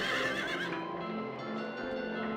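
A horse on a carousel in Silent Hill 3 lets out a loud, shrill whinny that trails off into lower, fading neighing and rumble, heard alone without talk.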